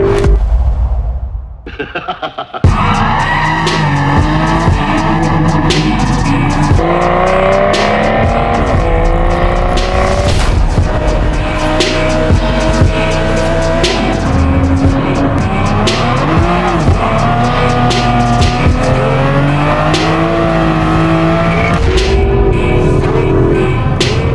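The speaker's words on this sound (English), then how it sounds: "this is an Aston Martin DB11." Aston Martin DB11 driven hard, its engine revving up and down under repeated long tire squeals and skids, loud and continuous after a short quiet start, with no talking.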